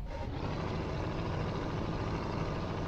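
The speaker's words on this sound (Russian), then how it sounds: "Вот так вот звучит наш движок." A Neoplan N116F coach's diesel engine idles in Proton Bus Simulator, a steady, dense, low rumble that holds constant and close with no variation or talk.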